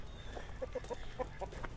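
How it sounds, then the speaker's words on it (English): Several roosters and chickens on a farm give soft, quick clucks, a few short calls spaced irregularly over a low outdoor background, faint and somewhat distant. "and yet another rooster, and some chickens"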